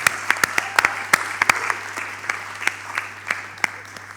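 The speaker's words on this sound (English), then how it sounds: "let's give our BSc students a big round of applause for that effort" Audience applause at a hotel-management school graduation ceremony, a steady patter of many hands clapping with sharper individual claps standing out, lasting several seconds and fading slightly.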